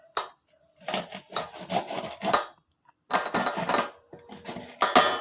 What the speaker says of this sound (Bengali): এই যে আবারও আম গ্রেট করা শুরু করলাম